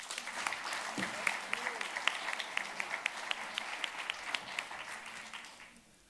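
Symposium audience in a hall applauding, a dense spread of many hands clapping at moderate distance with a few crisp nearby claps, dying away near the end, with some voices underneath.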